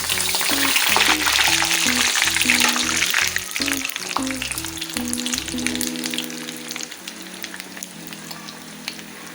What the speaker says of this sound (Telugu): ముందుగా పల్లీలు ఒక్క నిమిషం వేగిన తర్వాత ఇంకో సామాన్లన్నీ